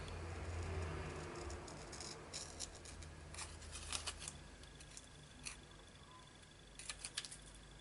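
Paper for a vintage matchbook ephemera folder is trimmed with scissors, giving faint, scattered crisp snips over a low background hiss, with a small cluster near the end and no speech.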